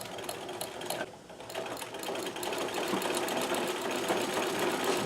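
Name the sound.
Singer 237 sewing machine running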